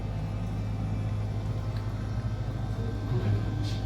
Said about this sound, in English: It's very nice elevator. These Ecodiscs run really good.